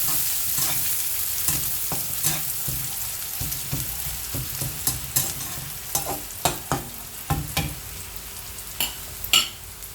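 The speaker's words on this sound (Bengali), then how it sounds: "পেঁয়াজ রসুন ভাজা হয়েছে, এখন দিয়ে দিলাম পাতা।" Moringa leaves fry in oil with onion and garlic, a soft continuous sizzle broken by repeated sharp spatula scrapes and clacks against the pan, growing more frequent toward the end.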